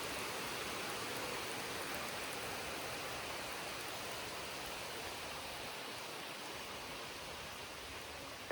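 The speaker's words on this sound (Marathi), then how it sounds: "हातातलं काम सोडून पळावं लागतंय माणसाला असा पाऊस आला की." Heavy rain pours steadily in a dense, unbroken hiss for the whole stretch, loud and close, with no voices.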